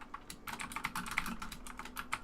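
Someone types quickly on a computer keyboard, a dense run of close, crisp key clicks with a few louder strokes and no voices.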